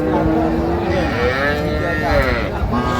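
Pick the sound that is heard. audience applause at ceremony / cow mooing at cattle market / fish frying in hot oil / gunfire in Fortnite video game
cow mooing at cattle market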